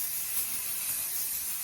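Makeup setting spray misted from a bottle, a steady soft hiss close up that runs continuously through the whole moment with no talking over it.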